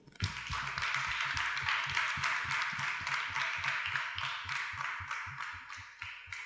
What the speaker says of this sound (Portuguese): palmas para vocês que estão aqui nos ouvindo